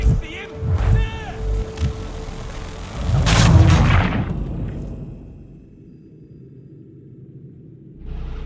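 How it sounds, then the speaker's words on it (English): Deep booming cannon fire erupts amid Assassin's Creed III Remastered game sounds, with a heavy rumbling explosion in the middle before things quiet down. "Those cannons are like to cause trouble."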